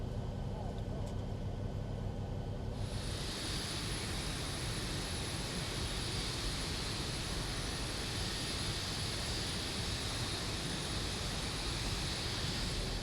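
A simulated airliner jet engine spools up during startup in the flight simulator X-Plane 11 at Atlanta, a steady loud roar rising in after a few seconds and settling into a continuous whine, with talk underneath.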